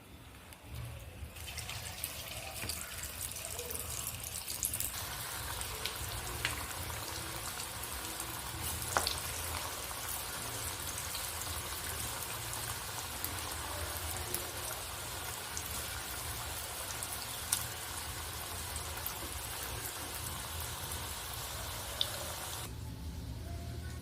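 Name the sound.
vadas deep-frying in hot oil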